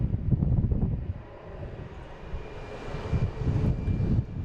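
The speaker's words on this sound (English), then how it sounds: "we got this Delta taking off" Delta Airbus A321neo airliner taking off, a deep rumbling engine roar that surges, dips midway and swells again, heard from outside with gusty wind buffeting the microphone.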